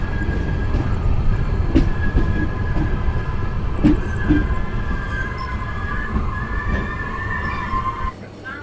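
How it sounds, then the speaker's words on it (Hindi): The Lalkuan–Anand Vihar intercity express rolls into Bajpur railway station with a heavy steady rumble, wheel clatter and brake squeals, loud and close throughout before easing near the end. "तो 12:18 पर हमारी जो ट्रेन है उसका अराइवल हो गया है बाजपुर रेलवे स्टेशन पर।"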